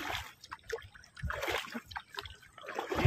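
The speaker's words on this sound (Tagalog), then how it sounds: "Malakas ang agos eh." A strong river current rushes and sloshes close by, with irregular trickling, splashing and gurgling bursts that rise and fall in uneven pulses.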